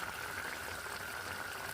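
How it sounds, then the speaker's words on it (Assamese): A small fish curry bubbling at a steady boil in a pot, a dense, continuous simmering burble heard close up, with no voices over it. "ফাইনেলি এয়া উতলি আছে চাওকচোন"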